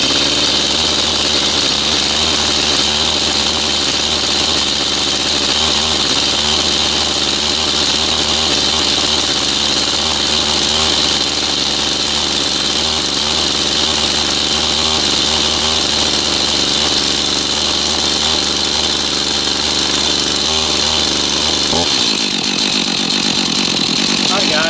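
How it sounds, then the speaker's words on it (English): A Stihl MS 251 C chainsaw runs continuously with a loud, rough engine drone that pulses steadily at idle for over twenty seconds, then cuts out abruptly near the end. "It should crank within the first pull or second."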